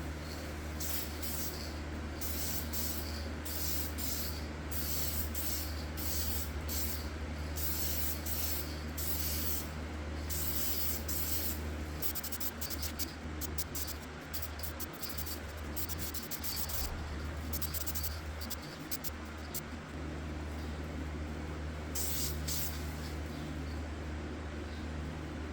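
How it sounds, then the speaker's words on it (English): Steady hiss of a spray can laying a light mist coat of paint on a '79 EVH Bumblebee guitar, continuous and close, with brief pauses and bursts through the pass and no talking. "we're gonna do another light mist coat. Slowly start building up that color."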